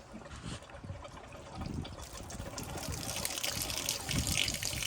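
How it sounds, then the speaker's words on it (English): Water drains out through an opened valve in a steady, hissing trickle that swells into a fuller gush, close by and continuous. "you just turn this valve and the water's going to come out of it"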